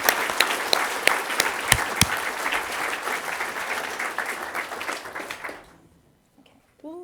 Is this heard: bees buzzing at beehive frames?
no